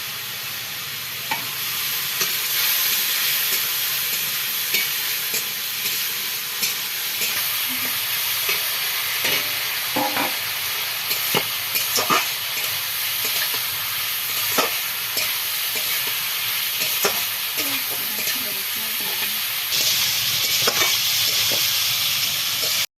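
Masala cooked down in a pan for a thin rohu fish curry, with a loud, constant sizzle and hiss and scattered stirring clinks and scrapes, close up throughout.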